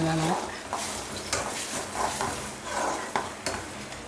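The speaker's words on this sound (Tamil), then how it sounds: "ஊற்றி நம்ம அப்படியே கிண்ட வேண்டியதான்." Egg podimas, a Tamil scrambled egg dish, being stirred in a pan: a spoon scrapes and clinks against the metal in repeated strokes over a soft sizzle, close by.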